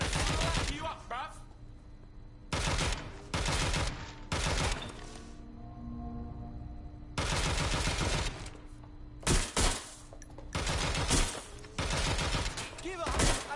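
Loud bursts of automatic gunfire in a PS4 game come in several separate volleys of a second or so each, with quieter gaps and sharp single shots between them.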